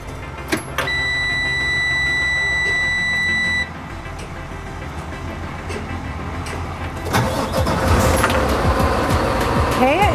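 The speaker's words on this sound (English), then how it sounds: "we're gonna start our engine." A truck's engine cranks and catches after a steady electronic warning buzzer sounds in the cab, then settles into a rumbling idle with air hissing, close and loud, with talk under it.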